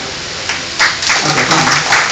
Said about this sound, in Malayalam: നിന്നില്ലെങ്കിൽ പോലും ഒരു മനോഹരമായ ക്ലാപ്പ് കൊടുത്ത് നമുക്ക് അവരെ സ്വീകരിക്കാവുന്നതാണ്.